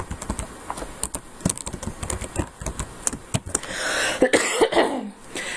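Quick, uneven clicks of fingers typing on a computer keyboard, heard close and alone, followed near the end by a cough or throat-clearing.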